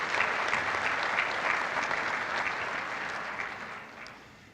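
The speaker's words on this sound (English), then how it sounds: "let's give them a round of applause as well" A conference audience at a tech event claps in steady, sustained applause for the sponsors, a dense wash of hands that holds evenly and then fades toward the end.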